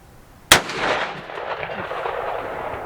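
A single sharp, loud gunshot from an Echo 3 Ordnance .450 Bushmaster rifle cracks nearby outdoors and is followed by a long rolling echo that slowly fades.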